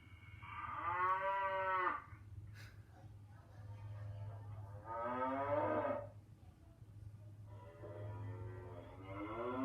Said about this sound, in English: Alexa, play cow sounds.